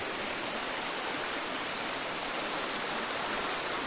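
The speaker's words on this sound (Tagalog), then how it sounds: "narating na namin ang ano pinakataktok ng falls na ito" Steady, loud rushing roar of a waterfall heard from the top of the falls, a dense broadband wash of falling water with no breaks, unbroken for the whole stretch.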